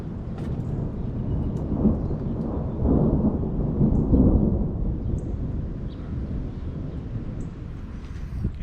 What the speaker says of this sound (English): we've had some crazy lightning and thunder.